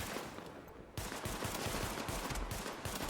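Pistol fire in the video game The Division: rapid, loud, repeated shots crackle almost without pause, dense and close, with a brief lull before the firing resumes.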